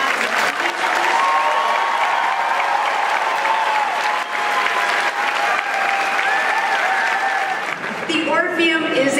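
An audience applauds graduates at a graduation ceremony in the Orpheum theatre, a dense, loud, continuous clapping that fills the hall and begins to thin near the end as a voice comes in.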